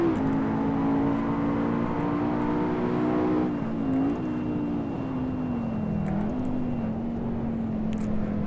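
A racing car's engine in the Assetto Corsa video game drones steadily at high revs, its pitch dipping and rising slightly as it shifts and changes speed through corners, loud and close with no talk.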